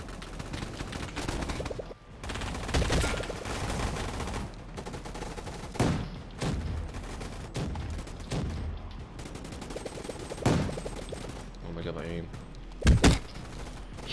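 Gunfire from weapons such as a PPSh submachine gun and sniper rifle in the Roblox game Gunfight Arena, with scattered bursts and sharp reports throughout, heard under a person talking over the gameplay.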